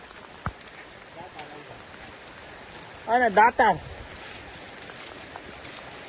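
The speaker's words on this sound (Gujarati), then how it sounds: "વરસાદ ચાલુ થઈ ગયો છે" Rain falls steadily as a soft, constant hiss on a hillside trek at Datar hill, with someone speaking briefly in the middle and a sharp tap near the start.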